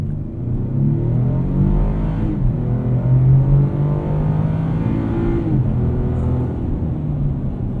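A 2021 Chevrolet Colorado ZR2 pickup accelerates hard from a standstill toward 60 mph. The engine roar climbs steadily and loudly, broken by two brief dips where the gears shift, with no talking.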